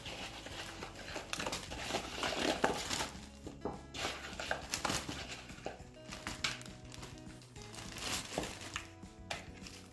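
Frozen ginger garlic paste cubes tipped from a container into a Ziploc bag, giving a busy run of close clattering knocks, plastic crinkles and rustling taps that continues unevenly throughout, with no talking.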